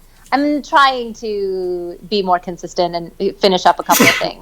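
A voice talks steadily, then a single sharp sneeze bursts out at the end, close and loud right after the speech.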